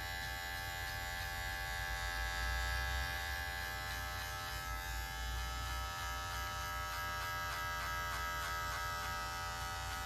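Electric hair clippers with the lever fully open and no guard buzz steadily while setting a skin-fade guideline, a close, continuous motor hum with slight variation as the blade moves through hair.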